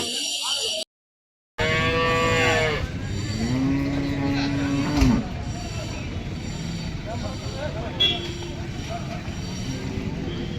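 Cattle low at a cattle market selling heifers and calves, with one long, close moo followed by fainter bovine calls amid steady crowd and outdoor noise. A short dropout breaks the sound near the start.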